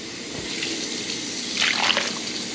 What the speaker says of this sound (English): I'm going to add 1 can of water